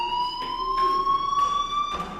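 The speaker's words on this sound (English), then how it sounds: "do you hear that fire alarm? That means you should be outside." A fire alarm sounds inside the video game Life Is Strange, a steady electronic tone with a pulsing, repeating cycle. It rings alone at a fairly loud level and continues throughout.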